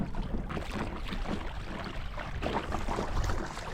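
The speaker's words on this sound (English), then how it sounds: "we're going on a dinghy ride here" A small dinghy moves across foggy coastal water in Maine, with a steady rumble of motor and hull, water slapping and wind buffeting throughout.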